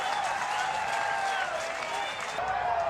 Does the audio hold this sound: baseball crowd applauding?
yes